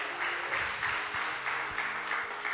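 Church congregation applauding during a sermon, a moderate, even wash of many hands clapping that swells and recedes slightly, with a few low thumps underneath.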